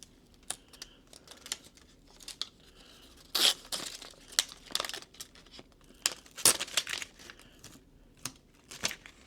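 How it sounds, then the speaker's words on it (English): Double-sided tape being handled and peeled while prepping a commercial wall sign logo, with scattered crinkles, short tearing bursts and a few louder rips at close range, no talking. "I'm dealing with this double-sided tape"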